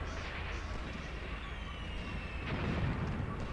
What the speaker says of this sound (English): Oh shit, German artillery is falling again.